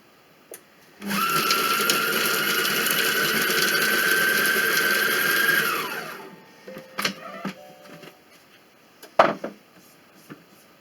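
A kitchen robot chops onions for a chicken jambalaya, running about five seconds at speed 5 with a steady high whirring drone. The motor winds down, then the lid clatters and knocks a few times.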